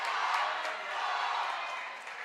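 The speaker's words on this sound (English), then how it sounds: "you can hear that Dragon spirit over there, the spirit crowd. Chanting their wall cheer" Student spirit section crowd at a high-school district volleyball game chanting a wall cheer, a dense, steady roar of many voices that holds at a fairly even level throughout.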